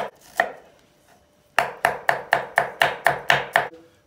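Onions are finely chopped with a knife on a board for a Turkish dried-bean stew: a lone early chop, a pause, then a steady run of eight crisp, evenly spaced chops, close and clear with no talking.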